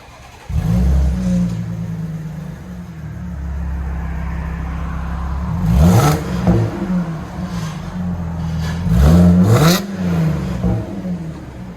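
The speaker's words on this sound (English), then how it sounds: "This is what it sounds like after a muffler delete." Audi A7 3.0 supercharged Quattro with a muffler delete, loud and close, idling with a low rumble and then blipped in two sharp revs with a rising and falling engine note, no talk.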